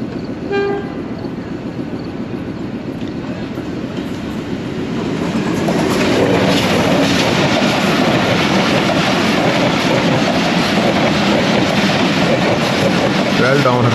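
Hazara Express passenger train led by an HU-20 locomotive on a Lahore–Rawalpindi main line, starting with distant rumble and a short horn toot, then swelling into a loud, steady roar of wagons and clattering wheels as it passes close by.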